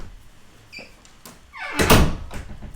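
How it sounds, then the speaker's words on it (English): An indoor door swings shut with a brief squeak followed by a loud, close thunk, ahead of a home mini-concert. "Let me close the door because I always get better sound if I close the door."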